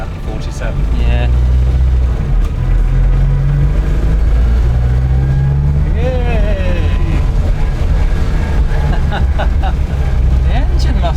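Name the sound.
Austin Mini Mk1 petrol engine running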